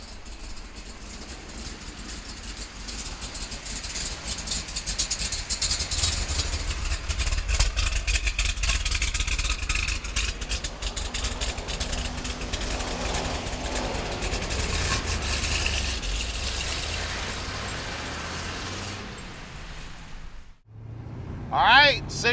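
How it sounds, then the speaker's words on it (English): A 1968 Chevrolet Corvette big block V8 runs close by, idling roughly, then rising through several brief revs before cutting off near the end. "this Corvette wants to get up and go. I haven't done more than just touch the accelerator. This big block is making horsepower."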